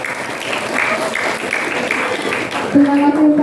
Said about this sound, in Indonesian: beri tepuk tangan untuk Ustadz Fatur